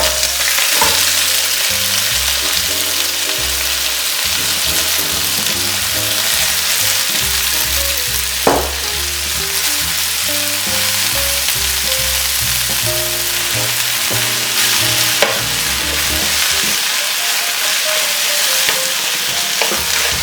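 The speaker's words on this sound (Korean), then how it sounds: "깻잎순을 잘 볶아주세요" Marinated perilla shoots stir-fry in avocado oil in a hot pan over high heat, giving a steady, loud, close sizzle with scraping and stirring clatter running throughout and a few sharper knocks, with no talking.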